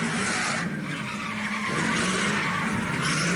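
Drifting cars with continuous tire squeal and skidding, a dense, loud screech blended with engine roar that holds steady without a break.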